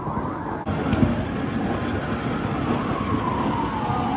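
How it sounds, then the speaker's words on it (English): Several wailing sirens overlap in a dense, loud wash of urban noise on New Year's Eve in the Philippines, rising and falling continuously with a brief dropout near the start. "There is so many, like all the sirens are going off."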